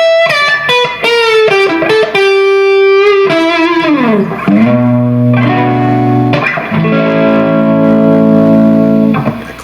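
Rock chords on a Jackson JS or X Series electric guitar, played on the neck pickup with the volume rolled off. Loud sustained chords ring out through effects, then change to a fuller, lower voicing partway through.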